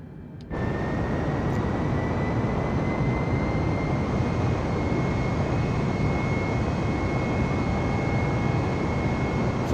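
A Cessna Citation Longitude business jet spooling up for takeoff in MS Flight Simulator, a steady, loud engine roar with a thin high whine that starts abruptly and holds evenly throughout, with no voices.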